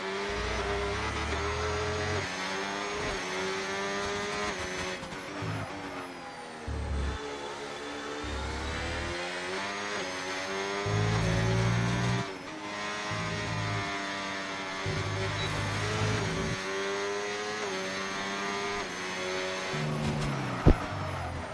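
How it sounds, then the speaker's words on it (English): F1 race cars in a Barcelona Grand Prix racing video game give a continuous loud engine whine, rising and falling through gear shifts with no talking. "What do we like seeing? Race cars!"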